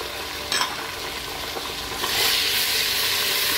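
Tomato and ginger garlic paste frying in a pan for white chana pulao, a steady close sizzle with stirring scrapes that swells louder partway through, no speech.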